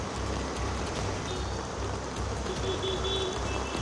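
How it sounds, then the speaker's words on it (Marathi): Heavy monsoon rain pours onto a flooded road in Nalasopara, Vasai-Virar, as a steady wash of hiss with faint beeps and low traffic rumble behind it. "नालासोपारा परिसरात मुसळधार पावसाला सुरुवात झाली आहे"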